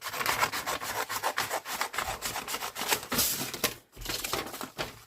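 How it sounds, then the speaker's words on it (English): Scissors cut through Amazon cardboard packaging: close, loud rasping and crunching strokes in quick succession, with a short pause near the end before the cutting resumes. "I'm just going to cut that with scissors"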